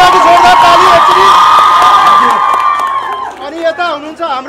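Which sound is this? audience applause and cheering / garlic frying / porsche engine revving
audience applause and cheering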